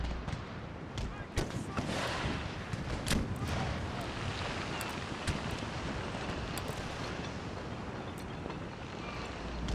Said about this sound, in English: All 16 cannons will fire here in a second.